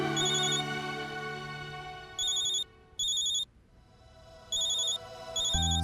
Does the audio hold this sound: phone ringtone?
yes